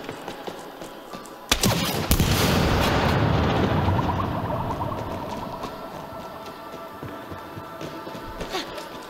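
Gunfire from shooting in the co-op video game It Takes Two, opening with a sharp crack and then a dense, loud burst of rapid fire that tapers off over several seconds.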